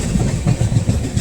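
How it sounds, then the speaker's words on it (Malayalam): Mangalore–Chennai superfast train running near the Shoranur outer, a loud, close rumble with rhythmic rolling thumps of wheels over rail joints, continuous and without voices. "ഇതേ മാംഗ്ലൂർ ചെന്നൈ സൂപ്പർ ഫാസ്റ്റ് കയറി പോന്നു"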